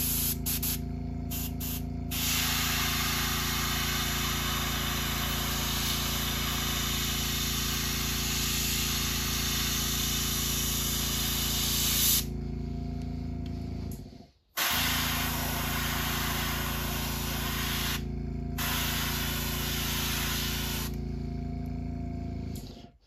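Airbrush spraying paint onto a custom crankbait fishing lure, a close steady hiss broken by short pauses and a longer gap midway.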